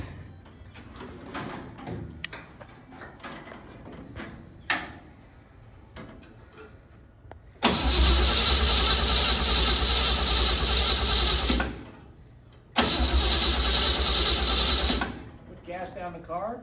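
Crosley hot rod engine cranking over on the starter without catching, two long loud steady bursts of whirring separated by a brief pause, following a stretch of quiet handling noises and voices.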